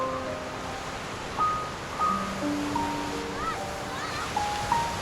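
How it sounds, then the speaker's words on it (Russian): Baltic Sea surf on the Curonian Spit rolls in as a broad, steady wash of waves with gusts of wind, while faint tonal sounds drift over it. "Мы сразу вышли к Балтийскому морю."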